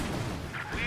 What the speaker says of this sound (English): I think that was double grenades.